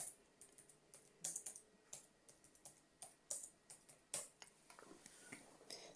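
Keyboard typing while entering an ID number, phone number and address into form fields of a software module, heard as quiet, irregular bursts of close clicking keystrokes with short pauses between them.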